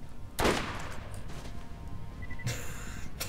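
Gunfire in the video game Borderlands aimed at a flying, heavily shielded enemy: a sharp burst of shots opens the clip, then a second louder flurry later on, over a steady game background.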